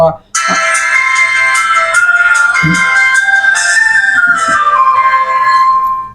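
An itel IT5032 feature phone powers on and plays its startup chime, a loud, bright tonal melody that rings out for several seconds after a brief tap, then fades away at the end.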